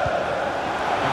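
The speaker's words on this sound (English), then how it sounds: "The crowd encouraging him to take it on." Stadium crowd noise from an FC 24 Europa League match between Manchester United and Tottenham Hotspur, a steady broad roar of cheering and encouragement held throughout the short moment with no one talking.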